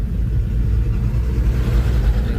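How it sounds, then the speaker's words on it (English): Heavy road traffic in a crazy jam, a dense low rumble of idling and creeping car engines close by, continuous and loud throughout with no voices. "The crazy traffic jam."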